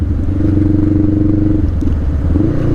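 A motorcycle cruising at about 40 miles per hour: a loud, steady engine drone with heavy wind and road rumble that eases slightly toward the end.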